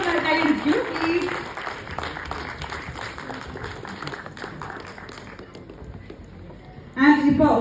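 Audience at a Malayalam film audio launch event clapping for the actor Shine, a sustained burst of crowd applause over amplified announcer talk that fades out before a voice returns.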